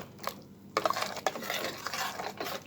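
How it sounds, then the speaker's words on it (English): A spoon stirring a soup mixture in a pot for vegan pepperpot soup, making soft scraping and light clinking touches against the pot with faint bubbling, quiet and close with no talk. "You don't need to use a whisk or anything, so just mix that in."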